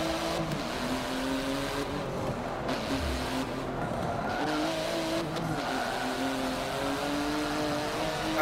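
An Acura race car in Forza Motorsport 7 drones loudly and steadily, its engine pitch rising and falling while repeated tire squeals and skids cut in, with no talking.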